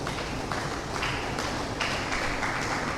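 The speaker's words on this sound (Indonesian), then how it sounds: "Tepuk tangan dulu buat Tuhan kita." A church congregation claps together for God in sustained, dense applause that keeps up steadily throughout, fairly near and without clear talk over it.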